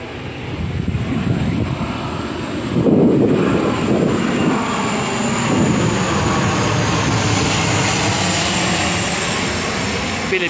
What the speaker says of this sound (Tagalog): May aeroplano na?